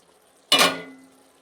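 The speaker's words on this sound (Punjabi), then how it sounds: "ਹੁਣ ਆਪਾਂ ਇਹਦਾ ਢੱਕਣ ਉਤਾਰਦੇ ਆ" A single close metallic clank as the lid comes off a pot of carrot and pea curry, ringing briefly before fading, with no voices.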